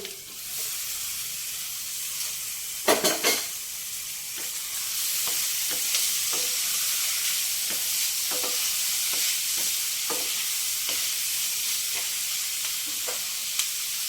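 Carrot and potato fry in a pan for paneer curry, with a steady loud sizzle and hiss broken by a few clattering stirs of a spoon.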